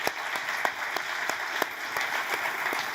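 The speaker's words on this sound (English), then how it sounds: "Let's give a big round of applause to them." Summit audience in Washington D.C. claps steadily, a dense wash of applause with individual claps popping out at a regular pace, sustained at even volume without speech.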